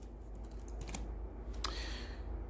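Fingers typing on a computer keyboard in quiet bursts of soft, quick clicks, with a short flurry of keystrokes near the end, close and faint with no talking.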